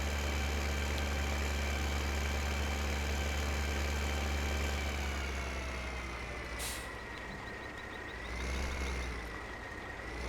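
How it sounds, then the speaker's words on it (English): Tractor engine in Farming Simulator 15 drones steadily at a low idle-like pitch through the whole stretch, loud and continuous with a slight swell near the end and a brief hiss partway through. "We're going to run our tractor down to the end of the field"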